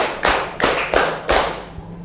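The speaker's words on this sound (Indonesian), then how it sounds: "Kasih tepuk 1, tepuk 2, tepuk 3, tepuk 4," A classroom of students claps together in four loud, sharp bursts, each a short crisp round of many hands, following a counted rhythm with brief pauses between.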